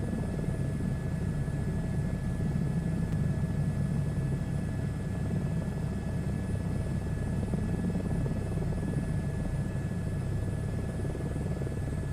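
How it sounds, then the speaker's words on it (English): Helicopter flying in a video game, a steady droning rotor and engine rumble that holds at an even level throughout, with no talking. "it's definitely a good-looking helicopter"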